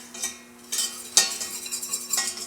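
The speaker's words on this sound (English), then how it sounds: "And then you have to whisk it so that you don't burn your flour or your butter" A whisk scrapes and clicks against a pan, stirring butter and flour into a roux, with intermittent brushing strokes over a faint steady hum.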